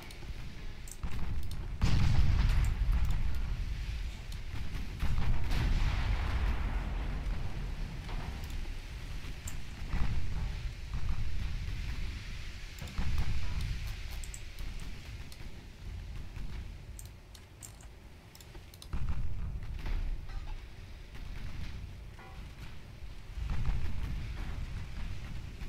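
A torpedo strikes a ship in the naval video game Ultimate Admiral Dreadnoughts, with deep booming explosions and rumbling impacts recurring every few seconds against low battle ambience.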